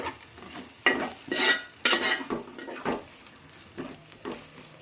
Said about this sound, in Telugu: కలుపుతూ వేపాలి పచ్చివాసన పోయేదాకా